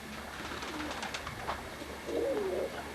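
Old guinea fowl calling outdoors, a few harsh, creaky cries from a flock at moderate distance, the loudest burst coming late over steady background noise.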